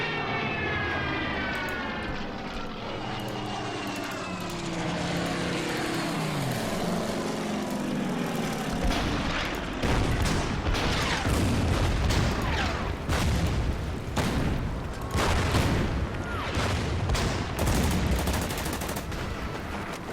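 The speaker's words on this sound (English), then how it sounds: "So we got Stukas, we got bombers, we got artillery." Stuka dive bombers and artillery in the Order of Battle wargame set on Malta: aircraft engines drone and whine with falling pitch, then a dense run of sharp gunfire and blasts cracks repeatedly.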